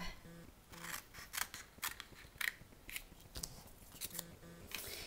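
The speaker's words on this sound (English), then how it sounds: "We have to cut off this tab and this tab." Scissors snip tabs off crumb cake cardstock for a card box caddy: a run of crisp, close paper cuts in quick uneven bursts, with no voices.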